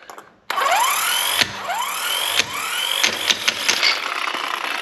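Electric impact tool loosening wheel lug nuts on a car, a loud, close, steady whine that rises in pitch and carries repeated hammering bursts for several seconds, with no talk.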